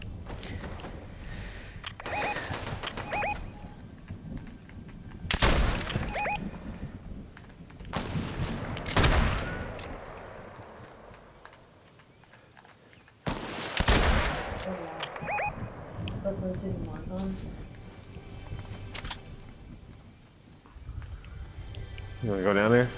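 Bursts of gunfire crack out in Fortnite duos: separate loud volleys and sharp single shots, some close and some farther off, spread across the stretch between quieter gaps with players talking over them.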